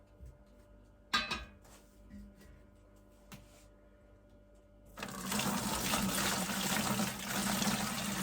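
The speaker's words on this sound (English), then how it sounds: "I've taken the leaves out, so now I can use a sieve for the rest." Natural dye liquid poured through a sieve: a few clinks and handling knocks, then a sudden steady rush of pouring liquid that runs loud and continuous to the end.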